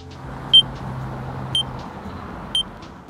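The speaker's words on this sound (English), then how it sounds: "Play don't walk signal feedback." The OKO iPhone app sounds its don't-walk traffic signal feedback: three short, sharp high beeps spaced about a second apart over quiet street ambience.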